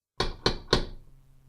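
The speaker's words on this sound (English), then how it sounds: "And again, I knocked." Three sharp knocks on an apartment door, evenly spaced and close, each ringing briefly before fading into quiet.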